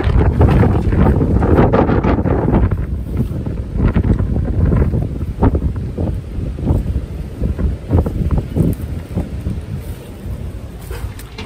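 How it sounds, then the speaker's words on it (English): Strong wind gusting past the microphone outdoors near a backyard duck and chicken coop, a loud rumbling roar that surges and buffets in uneven bursts throughout, with no talking. "I won't talk while the wind's going because it's pretty crazy today."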